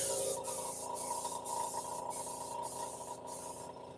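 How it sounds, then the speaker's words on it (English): A paint spray gun hisses steadily while spraying paint on a boat, with the hiss pulsing in short regular surges about every half second, fairly close and with no voices. "Is this spraying? Yeah, it's spraying."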